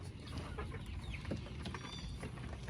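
Backyard chickens peck at feed and cluck softly, a flock of overlapping murmurs and short calls close by with scratching and shuffling beneath.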